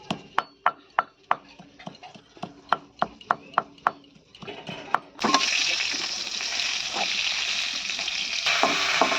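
Small chuno fish frying in a pan in a Bengali home kitchen. A run of sharp, regular clicks and taps comes first, then a loud, close, sustained sizzle takes over once the fish hit the oil.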